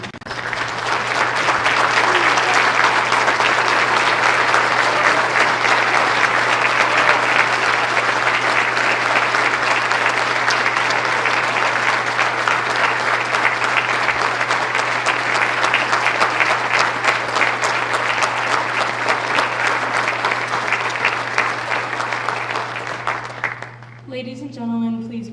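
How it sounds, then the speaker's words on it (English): Audience at a Wreaths Across America ceremony giving a long, loud round of applause for Gold Star and veteran families, dense sustained clapping that fades near the end as a voice begins to speak. "please stand for a round of applause to all of our Gold Star and veteran families"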